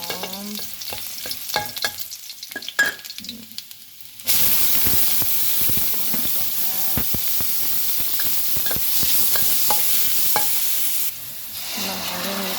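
Garlic hitting hot oil in a wok, first light stirring and clinking, then a sudden loud steady sizzle with scraping stir strokes that cuts back to quieter clatter near the end.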